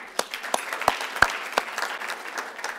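Community gathering audience gives a round of applause to imams: a few sharp, distinct claps stand out early, then scattered clapping continues more loosely and thins toward the end.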